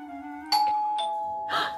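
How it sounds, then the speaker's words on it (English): A doorbell chimes nearby with a clear ding-dong, its tones ringing out in a short sequence. "The doorbell!"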